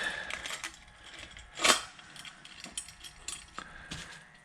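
A ratchet works on bolts for billet twin-turbo parts on a G8, giving a quick burst of clicking that peaks briefly mid-clip among a few lighter mechanical ticks and clatters.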